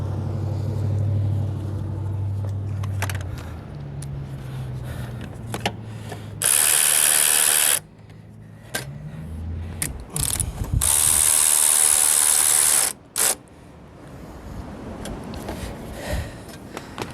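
A ratchet tightens the headlight assembly bolts on a 2017-2019 Buick Lacrosse, with repeated close bursts of rapid clicking and two long, loud stretches of continuous ratcheting.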